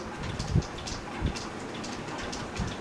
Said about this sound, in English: I really just started pouring down raining.